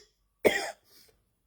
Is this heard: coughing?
yes